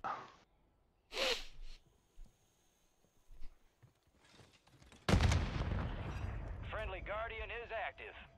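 Gunfire in Call of Duty Warzone during a Modern Warfare 3 era match: a couple of sharp shots early, then a loud sustained burst of firing and game effects near the end, with voices talking over parts of it.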